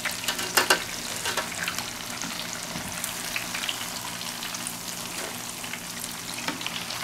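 Cheese-stuffed onion rings frying in a pan of hot oil, giving a steady, dense crackling sizzle with bursts of sharper popping near the start, close and alone throughout.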